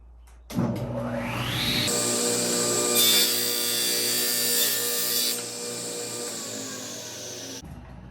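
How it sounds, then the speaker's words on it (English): A table saw spins up and cuts through wood for a custom stereo component rack, with a rising motor whine and then a steady, loud cutting roar before the blade winds down, close by. "So it's just as easy to use the table saw."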